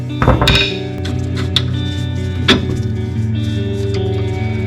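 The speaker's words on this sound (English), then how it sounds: "The hammer." A few sharp metallic hammer strikes ring out on a Dodge Dakota truck's suspension parts, spaced irregularly over a steady low engine-like hum.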